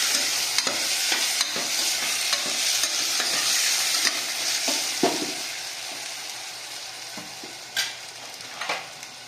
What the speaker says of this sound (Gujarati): અને ગુવાર અને બટેટા બે નાખી દઈશું. અને સરખી રીતે મિક્સ કરશું.